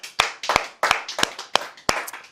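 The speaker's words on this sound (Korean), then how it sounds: "박수 한번 주세요" Sparse clapping from a few people welcoming a guest onto a Korean live political talk broadcast, about seven sharp separate claps in quick uneven rhythm, close and fairly loud with brief silences between them.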